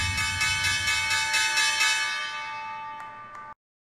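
Stock exchange opening bell ringing loudly in a sustained metallic tone with rapid repeated strikes, holding for about three and a half seconds before cutting off abruptly.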